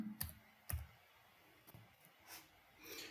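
A few sharp keystrokes on a computer keyboard while a database name is typed, quiet and close, with irregular spacing between clicks and no talking.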